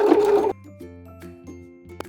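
A sewing machine stitching a rolled hem on a pair of pants runs in a short, steady burst. It stops after half a second, leaving faint tonal sounds and light clicks.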